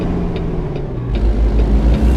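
A Kenworth K100E cab-over truck in American Truck Simulator drones with a steady low engine rumble that swells slightly partway through, loud and close with faint ticks above it.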